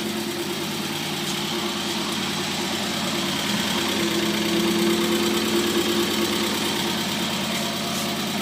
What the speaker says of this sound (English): This is how it sounds with just the back muffler on.